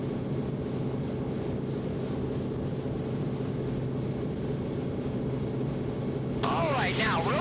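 A warbird airplane climbing out after a midfield departure at low engine power, its steady engine drone and rushing wind filling the cockpit continuously, with a brief burst of higher noise near the end.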